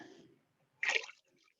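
Ceramic glaze splashes and gurgles as it pours into a pottery pot in one short wet burst, close up, after a brief soft rustle.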